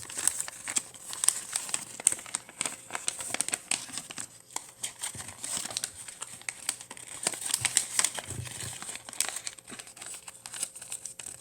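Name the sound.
origami paper being reverse folded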